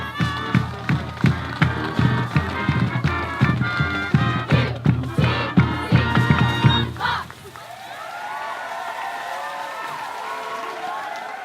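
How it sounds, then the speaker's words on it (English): Audience applauding homecoming queen candidates, a rhythmic run of claps and cheers over music that cuts off sharply after about seven seconds, then a quieter outdoor murmur of voices. "Please give a round of applause for our homecoming queen candidates"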